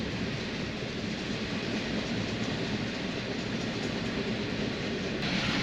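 Train rolling past on railroad tracks, a continuous close rumble with rattling wheels and a faint clickety-clack that holds steady throughout, with no voices.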